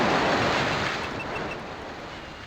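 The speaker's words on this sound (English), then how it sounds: "Whoa, that's loud. That's a water wall." A water wall rushing in Asheron's Call, a steady broadband roar like heavy surf that swells loud at first and eases slightly, with no voices.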